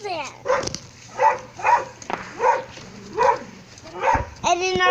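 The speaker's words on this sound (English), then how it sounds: "And then our dog is barking like crazy." A pet dog barks repeatedly in a steady rhythm, about six loud barks spread evenly across the moment, close by, with voices and shrill child sounds mixed in outdoors on a fireworks night.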